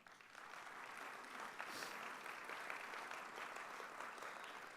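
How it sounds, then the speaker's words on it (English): Steady applause from a crowd at a Detroit Economic Club event, dense clapping that holds at an even level throughout without pause. "Let's congratulate them with a round of applause."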